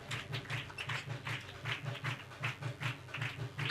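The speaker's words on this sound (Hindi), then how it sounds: "जोरदार तालियां खुदा के जलाल के लिए" A church congregation claps loudly in unison at a Sunday service, with steady, rhythmic clapping that repeats evenly throughout.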